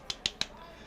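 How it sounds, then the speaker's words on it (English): Three quick, sharp claps sound close together in a video game, crisp isolated hits in a fast rhythm and then nothing more, fairly faint. "It's the sound of clapping that caused us to jump apart"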